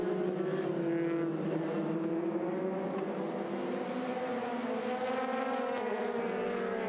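Super Formula race cars launch at a race start, a dense blended engine roar with rising, overlapping tones from several cars pulling away, steady and loud at a distance.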